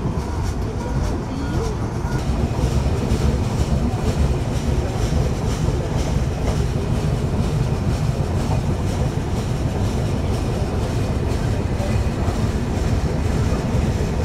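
A Jahanabad Express passenger train creeps slowly toward Kamalapur station in Dhaka after passing Gandaria, a continuous rumble of wheels and carriages with faint rail clatter, heard from on board at steady level without talk.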